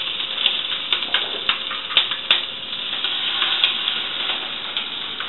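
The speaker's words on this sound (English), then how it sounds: "so these are going to fry about 10 minutes" Hot oil sizzles and crackles steadily with frequent small pops as chicken fries, a close, busy frying sound with no talking.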